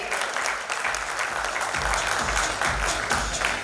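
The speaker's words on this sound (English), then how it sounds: "Can we once again have a huge round of applause for them, everybody?" A large audience at a Tecno Phantom V Fold 5G phone launch ceremony at the JW Marriott breaks into steady, dense applause that carries on loud and continuous throughout, with crowd noise mixed in.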